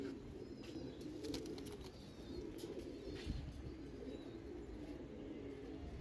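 Pigeons at a loft coo in a faint, distant, steady murmur, with light fluttering and small chirps scattered through and no speech.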